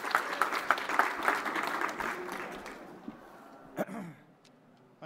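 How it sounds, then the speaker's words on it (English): Audience applause for a speaker opening a session at the UN COP26 climate conference: a room of clapping that swells, then fades over a few seconds, leaving a couple of isolated claps and small noises. "Please clap for him."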